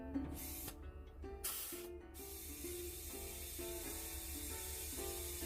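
Compressed air from a gas station air hose hisses into a Honda NC700X motorcycle tire in sharp close bursts, each followed by a repeating short rhythmic ticking from the pump, nearby and fairly quiet.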